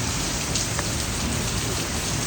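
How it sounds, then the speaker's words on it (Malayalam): Heavy rain pours down on an extremely rainy day, a dense, steady hiss of drops drumming on surfaces with no pauses, close and full, with no voices. "നല്ല മഴയാണ്, പക്ഷെ എന്നാലും"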